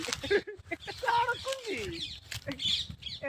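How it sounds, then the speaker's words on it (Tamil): A quail chick gives thin, high cheeping calls in short bursts outdoors, close and fairly quiet, with a person talking over them at points. "அது குஞ்சு குஞ்சு இல்ல, அது காடை குஞ்சு."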